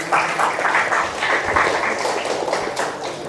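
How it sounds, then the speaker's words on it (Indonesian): An audience at a university public lecture claps steadily, a dense patter of many hands filling the whole stretch, with no voices standing out. "Tepuk tangan dong buat Mas Dodi."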